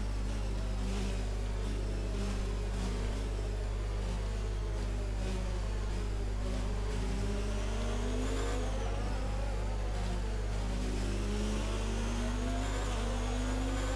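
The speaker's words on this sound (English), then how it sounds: "So the Williams is attacking Carlos Sainz now as well." Formula 1 cars race in the F1 2019 game at the Chinese Grand Prix, engines holding a steady droning whine with rising and falling revs as cars jostle nearby, continuous and without talk.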